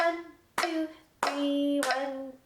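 Sharp hand claps keeping time while counting a rhythm for a flute piece, four claps spaced irregularly with ringing tones sustaining between them.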